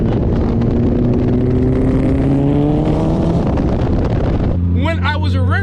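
A Mitsubishi Eclipse fitted with a Rocket Bunny body kit revs its engine loudly and close, the pitch climbing steadily before settling into a heavy drone with sharper rising whines at the end.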